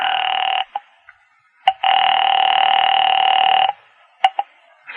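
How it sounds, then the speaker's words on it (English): Telephone dialing in a phone booth for a radio drama, heard as long steady dial-type tones broken by short clicks and brief beeps, fairly loud and alone with no talk. "I made another call there in the phone booth"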